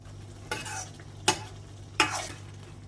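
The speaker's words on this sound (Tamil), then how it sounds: "காளான் சீக்கிரம் வெந்துடும் ஒரு ரெண்டுலேருந்து மூணு நிமிஷம் இந்த சூட்லேயே அப்படியே வெந்தால் கரெக்டாக இருக்கும்" Mushrooms cooking in a hot pan, three distinct bursts of stirring and sizzle about a second apart over a quiet low hum, no speech.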